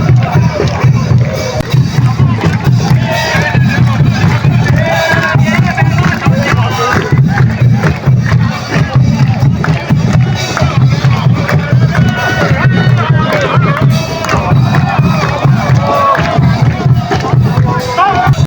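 Football fans in the stands at Chaloem Phra Kiat stadium, Bang Mot, Bangkok, cheer and chant during a Thai championship final, a dense and steady roar of crowd noise that carries loud and close throughout.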